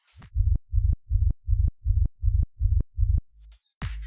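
The tail layer of a gated kick, a plain sine-wave bass with no effects, pulses eight times in a steady even pattern, each hit a short low booming tone ending with a click, followed by a few brief different sounds.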